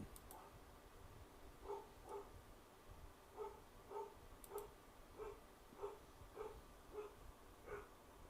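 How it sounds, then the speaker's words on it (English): A dog barks faintly and far off in a steady series of short, evenly spaced barks over a quiet background hiss. "my dog is barking"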